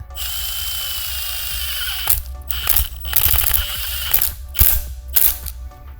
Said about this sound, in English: these screws are run with 5/16 bit